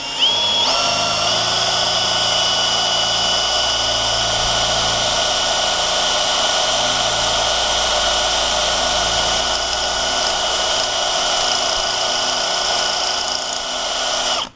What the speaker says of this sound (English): to show that this drill bit is a good drill bit, let's see here. Got a chunk of steel right here.